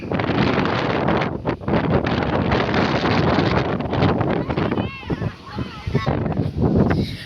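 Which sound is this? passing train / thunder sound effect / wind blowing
wind blowing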